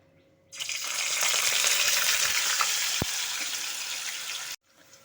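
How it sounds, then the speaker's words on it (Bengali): Loud, steady sizzling of raw banana chips frying in hot oil that starts suddenly and cuts off just as abruptly about four seconds later. "এখন আমি চিপসগুলো ভেজে নেবো"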